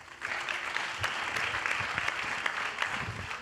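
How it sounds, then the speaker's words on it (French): An audience claps steadily throughout, a dense, even patter of applause from a crowd heard at a moderate distance. "On l'applaudit également."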